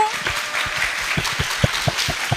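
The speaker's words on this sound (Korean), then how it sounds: "여러분, 박수 한번 주세요" A studio audience at an esports talk show claps in a brief, uneven patter of separate hand claps, moderately close, with a voice briefly heard at the start.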